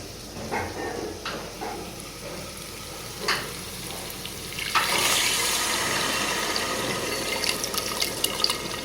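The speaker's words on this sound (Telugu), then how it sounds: "ఇప్పుడు చింతపండు రసం పోస్తున్నాను." Tamarind juice is poured into a hot pan of frying onions, ginger paste and curry leaves for an egg curry, starting with a few scattered sizzles and then swelling into a steady, loud hiss of liquid hitting the hot pan.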